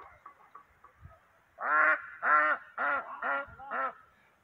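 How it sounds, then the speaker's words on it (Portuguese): A marreca duck near water gives five loud, close, raspy quacks in a quick uneven series after a few faint calls, with no talk over them. "Olha aqui a marreca lá."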